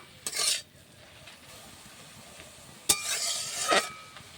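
Greens (saag) with salt and turmeric fry in a pan with a soft sizzle, broken by two close, brisk bursts of scraping as they are stirred.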